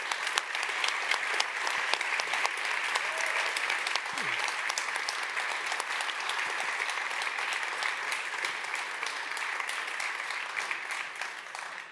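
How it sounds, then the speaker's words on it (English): An audience at a tech conference's center stage claps for a departing speaker, a sustained crowd applause of many hands, moderately distant and even, with a faint voice briefly heard underneath. "Give a big applause to Tenchi Hara."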